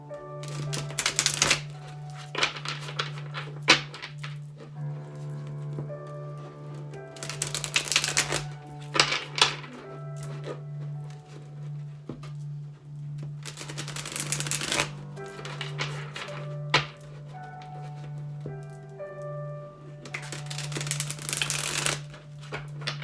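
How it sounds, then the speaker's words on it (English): Tarot cards are shuffled in repeated bursts of rapid riffling and flapping, each lasting a couple of seconds, separated by quieter handling over a constant low hum. "I'm going to do a quick shuffle before we get started"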